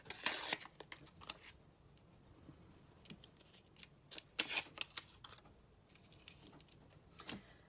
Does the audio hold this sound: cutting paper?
yes